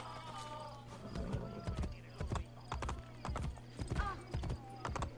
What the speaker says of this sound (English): No, get on the fucking horse.